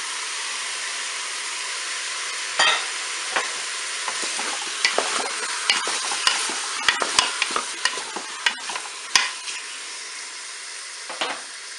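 Chopped onions go into a hot pot of oil in a Cookeo multicooker and set off a loud, steady sizzle. Irregular crackles and pops run through it, and a utensil stirs now and then, with no voices.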